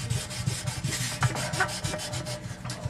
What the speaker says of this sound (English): I'm just going to get this polished. Again, we're at 1000 grit